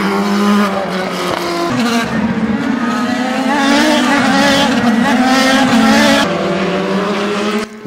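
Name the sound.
IndyCar race cars cornering at Honda Indy Toronto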